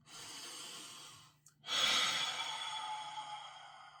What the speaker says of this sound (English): let's just collectively take a deep breath